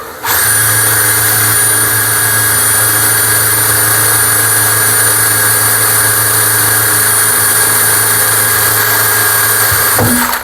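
Power drill with a 3 mm bit boring holes to fix a shower screen, a loud steady motor whine held for about ten seconds before cutting off, with no voices.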